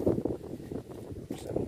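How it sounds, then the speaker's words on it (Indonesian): Strong wind buffets the microphone on a small boat at sea during a fishing trip, a steady rough roar with gusts, no voices. "Wow, kencang angin."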